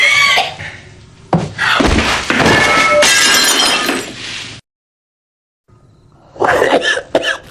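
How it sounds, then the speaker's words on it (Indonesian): A man coughing heavily, several harsh, loud coughs in close succession, then a sudden break in sound before glass shatters and clinks as it falls. "Batuknya semakin menjadi-jadi di sini."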